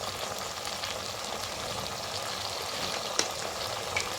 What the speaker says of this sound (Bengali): ক্যাপসিকামটা পেঁয়াজটা তেলের সঙ্গে একটু ভেজে নিচ্ছি।